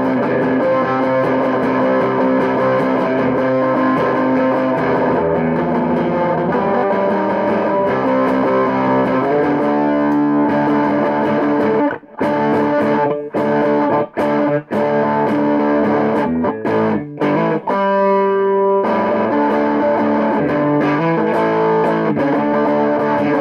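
An electric guitar runs through a Siren Pedals Airavata distortion pedal set with the gain near noon and the clipping switch centered, playing loud sustained distorted chords and riffs with several sharp stops, alone without talk.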